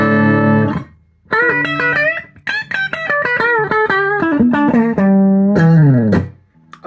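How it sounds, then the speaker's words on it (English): An electric guitar plugged straight into a Boss Katana amp, with no effects pedals, rings out clean and loud with sustained chords and single notes, strummed and picked in bursts with a brief pause early on. "So you've got your guitar. You're going straight into your amp."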